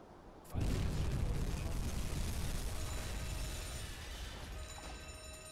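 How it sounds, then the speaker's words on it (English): Torpedo strike on a ship in the submarine game Uboat, a sudden loud explosive boom after a quiet moment, followed by a sustained heavy rumble that slowly fades. "one of the torpedoes hit, one of them just snuck behind"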